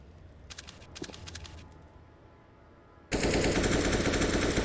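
Rapid automatic gunfire from a competitive tactical shooter esports match, first faint and distant with broadband bursts, then a sudden loud, dense stretch of sustained firing up close for the final second and a half.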